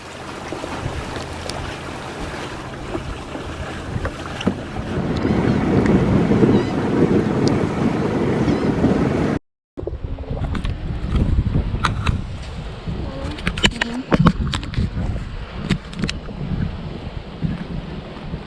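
A sailboat runs under full sail through a narrow, shallow gap near Hope Town, with steady wind rush and water wash against the hull, loud and continuous, briefly cut off midway before resuming with scattered knocks.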